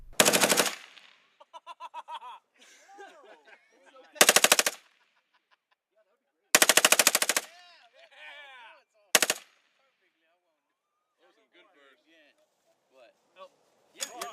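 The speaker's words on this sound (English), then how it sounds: "it was time to play around with a .30 caliber machine gun" A .30 caliber machine gun fires several loud, sharp bursts separated by pauses, with people talking and laughing between the volleys.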